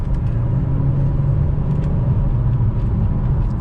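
An Audi A3 3.2 is driven hard through a traffic light, a loud, steady low engine rumble and road noise heard from inside the car, with no talking.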